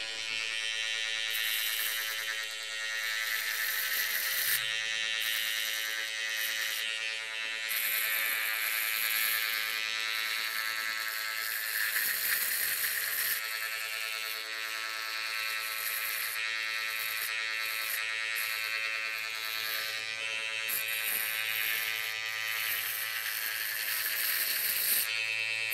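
Electric hair clipper buzzing steadily and close up while cutting a high skin fade, running continuously with slight shifts in pitch as it moves over the head, with no talking.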